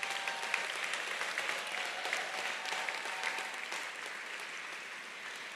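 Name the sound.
audience applause at graduate recognition ceremony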